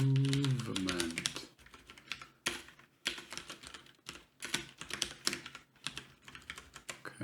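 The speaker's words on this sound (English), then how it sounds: "I can't type anymore." Fingers type on a computer keyboard in rapid, uneven bursts of close clicking keystrokes with brief pauses, after a short tonal sound at the start.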